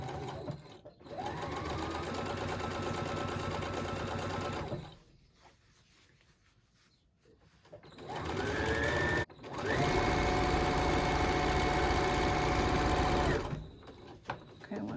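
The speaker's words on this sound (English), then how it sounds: "this is just a top stitch to hold down that" A sewing machine top stitching a seam runs in two long steady bursts of rapid mechanical whirring, separated by a quiet pause, close and loud.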